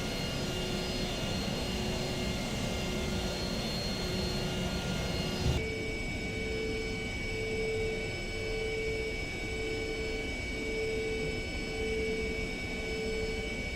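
Steady, loud whine and roar of an AV-8B Harrier II jet engine in a flight simulator, droning continuously with a sustained high tone that shifts partway through, with no talk.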